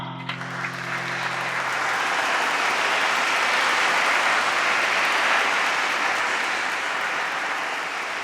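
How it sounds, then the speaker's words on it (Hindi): At an inter-school dance competition award moment, the audience breaks into applause for a winning school group, a brief tone fading at the start before a broad, sustained roar of clapping builds and holds steady. "SRK विद्यालय के पंछी और ग्रुप को तालियों से स्वागत कीजिए इनका"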